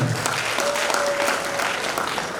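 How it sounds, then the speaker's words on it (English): Dense, continuous applause from a conference audience fills the whole moment, loud and even from start to finish with no talk over it. "You may want to clap your hands one more time for them."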